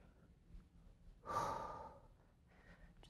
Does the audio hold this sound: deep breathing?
yes